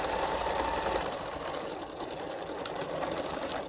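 A sewing machine stitches an apron with a steady, fast mechanical whirr, close and continuous through the whole stretch, with no talking.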